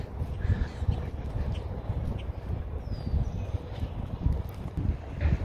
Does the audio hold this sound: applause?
no